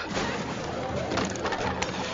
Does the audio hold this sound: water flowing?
no